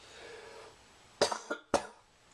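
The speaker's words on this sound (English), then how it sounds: "Excuse me again, I have a cough." Two or three short coughs close to the microphone, following a quiet moment.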